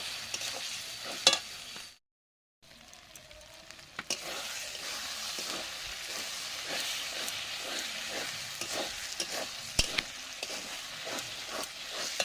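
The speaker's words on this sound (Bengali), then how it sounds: "দিয়ে ভালো করে মশলাটা কষিয়ে নেব।" A paste of dried red chilli, cumin and coriander fries in a pan for a mutton curry, a soft continuous sizzle cut by a brief silence near the start, then regular scraping stirs that tick along quietly with no talking.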